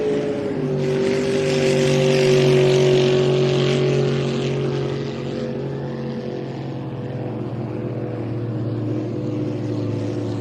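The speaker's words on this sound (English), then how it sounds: "It's not so bad when the outboards go by, but the big old thumping V8s make it tough." Racing boat with a V8 engine passes at an enduro event, a heavy, steady engine drone that swells as it nears and then fades gradually as it moves away, with no talking over it.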